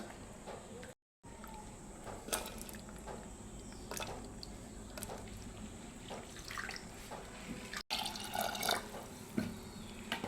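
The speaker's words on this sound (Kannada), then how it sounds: "ಎಲ್ಲ ಒಟ್ಟಿಗೆ ಹಾಕ್ಬಿಟ್ಟು ವಾಶ್ ಮಾಡಿ ಹಾಕ್ಬೇಕು" Lentils and vegetables are swished in water for a sambar, making a faint, continuous sloshing and dripping, with brief splashes and occasional soft handling noises.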